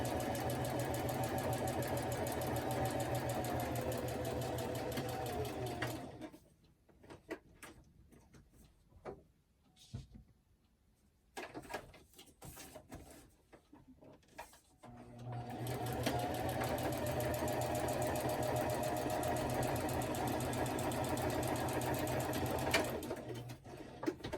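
A sewing machine stitching through a paper writing journal runs in two long steady stretches of close, loud whirring and ticking, broken in the middle by a quieter gap of handling noises and scattered clicks.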